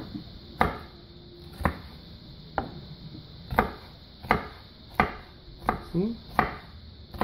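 A knife chopping food into small cubes on a cutting board, sharp even knocks roughly once a second, close and clear, with a brief spoken word near the end.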